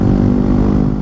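A 249cc Yamaha WR250X motorcycle cruising on a highway, a steady loud engine drone with wind noise, brief and alone with no talk.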